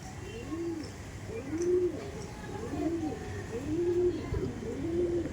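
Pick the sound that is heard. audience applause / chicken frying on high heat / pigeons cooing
pigeons cooing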